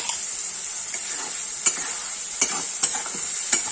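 A spoon scrapes and stirs tomato puree and garam masala frying in a pan for a Kashmiri-style egg curry, giving a steady bright sizzle broken by several sharp scraping strokes, close and loud with no voices.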